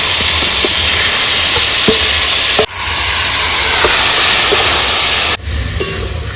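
Soybean chunks tossed into a hot frying pan of browned onions raise a loud, steady steam hiss with sputtering sizzle, briefly dropping twice as the food settles, with no talk.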